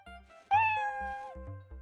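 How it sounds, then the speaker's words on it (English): A cat gives a single clear, drawn-out meow, fairly close and moderately loud, with faint low background noise. "Lemon Phoenix says meow."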